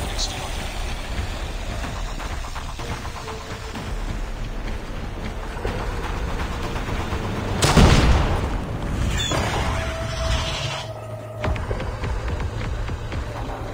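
Gunfire in Call of Duty Mobile zombies mode: constant rattling shots and game noise under talk, with a loud booming blast about halfway through.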